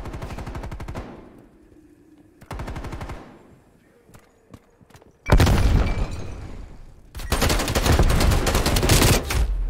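Hip-fired gunfire in Call of Duty Black Ops Cold War: quieter game sounds first, then two loud, dense bursts of rapid shots with a short pause between them.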